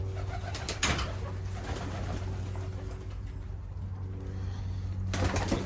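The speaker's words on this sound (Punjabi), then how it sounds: "ਅੱਜ ਕਬੂਤਰਾਂ ਨੂੰ ਗ੍ਰੇਟ ਪਾਈ ਸੀ ਮੈਂ" Pigeons coo softly and repeatedly in a loft while pecking at grit, with faint rustling and a few brief flutters nearby, and no one speaking.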